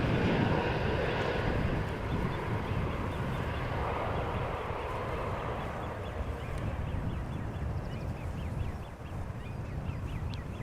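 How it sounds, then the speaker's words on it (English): Embraer airliner touching down at Amsterdam Schiphol, a steady, loud jet roar that fills the whole stretch and eases slightly toward the end, with faint bird calls over the engine noise. "gentle touchdown there by the pilot of this Embraer"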